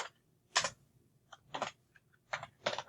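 Separate keystrokes on a computer keyboard while R code is entered, about six crisp clicks in small irregular clusters, close and clear over a quiet room with no talking.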